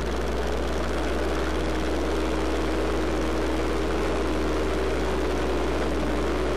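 A Midget Mustang light single-engine airplane in flight, heard from the cockpit as a loud, unbroken propeller drone with a steady engine hum that fills the whole stretch.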